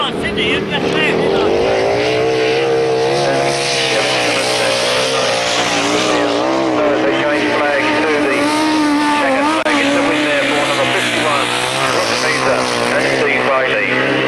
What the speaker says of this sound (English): It's really revving, that thing.